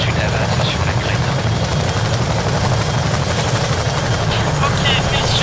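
A helicopter in a video game thrums loud and constant throughout, its rotor and engine roar filling the scene up close without letup.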